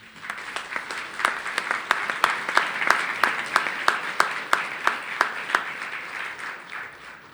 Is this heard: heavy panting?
no